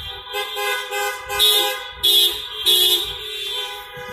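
Repeated car horn honks blare in quick succession over steady traffic noise, loud and close, with several blasts overlapping, from a car procession on Prospect Avenue in Milwaukee.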